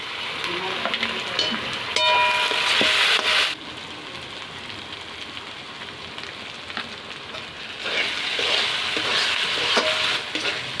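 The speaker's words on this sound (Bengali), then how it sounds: "আমাদের মশলা কষানো প্রায় কমপ্লিট" Masala spices with turmeric and coriander powder frying and being stirred in a pan for chicken kosha, a loud broadband sizzle with scraping strokes that drops to a quieter hiss midway, then swells again near the end.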